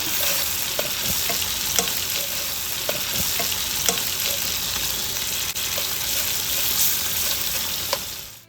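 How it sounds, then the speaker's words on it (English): Butter melts in a hot pan with the heat just turned off, a steady close sizzle and fry crackle with faint pops, no voices. "I turn off the heat. And I let the butter melt."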